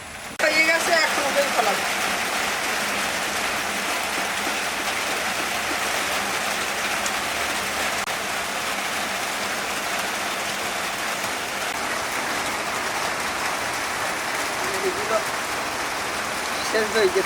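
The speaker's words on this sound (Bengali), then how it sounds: "বৃষ্টি চলবে কয়দিন তিন দিন" Rain pours steadily over a village, a dense, even hiss of drops on surfaces lasting throughout, with a voice speaking over it.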